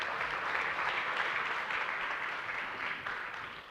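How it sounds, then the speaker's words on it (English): An audience at a markets conference applauds to welcome a speaker, a dense, steady clapping that fills the room and fades slightly toward the end. "A warm round of applause, please"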